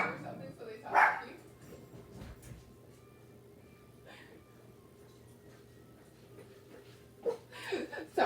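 Dogs bark in short bursts at the start and again near the end, with quieter stretches between, fairly close.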